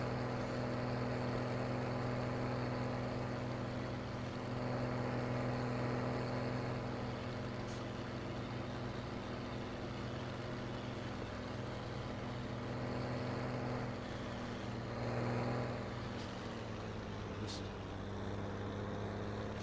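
A John Deere tractor engine in Farming Simulator 2017 drones steadily with a low, even idle hum throughout, fairly quiet and unchanging, with faint clicks now and then.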